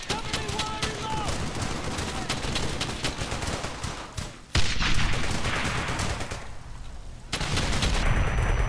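Gunfire in the World War II shooter Brothers in Arms: Hell's Highway comes as loud, dense rapid bursts of rifle and machine-gun shots, breaking into sharp separate blasts and a heavy impact near the middle. No speech is heard.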